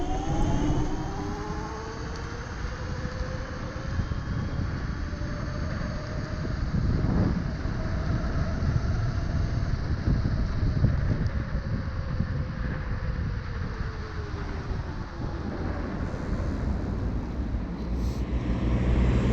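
A Dualtron Thunder electric scooter climbs a small slope in dual-motor mode, its motor whine rising and falling beneath heavy, continuous wind rush.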